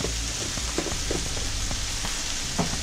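A burger patty sizzles steadily in a hot pan, a constant hissing fry with occasional small pops and crackles, close and unbroken, with no talking over it.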